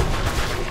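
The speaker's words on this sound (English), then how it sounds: "Oh, you're shooting me." Police gunfire in the Mirror's Edge video game, a dense burst of loud, rapid shots that fills the whole brief moment with no talking.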